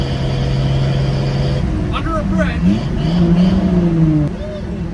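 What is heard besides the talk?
Chevy K10 Squarebody truck exhaust at highway speed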